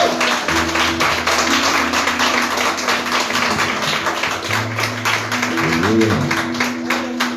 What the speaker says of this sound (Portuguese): E as palmas que louvam o Senhor nessa noite